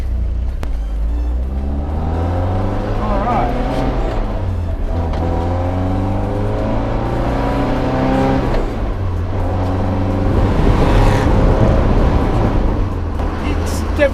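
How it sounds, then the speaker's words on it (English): A small Alfa Romeo car engine revs while driving, its pitch climbing and dropping through the gears in a steady loud drone, with someone talking over it throughout. "It's got a nice little revvy sounding engine, but it's definitely not a quick car."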